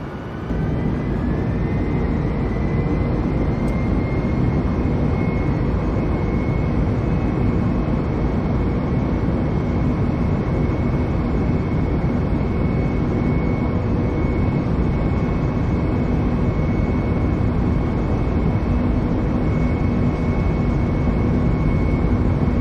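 A jet airliner, US Airways Flight 1549, holds a steady loud roar on its takeoff run from LaGuardia's runway 4, with a continuous broadband rumble and a faint rising whine, unbroken throughout.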